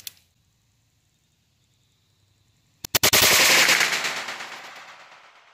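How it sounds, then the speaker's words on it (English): A Ruger Wrangler revolver fires a regular bullet at a knife blade: after a quiet stretch, two sharp nearby shots crack in quick succession, followed by a loud impact burst that rings and decays over the next couple of seconds. "now we're gonna shoot it again with the regular bullet"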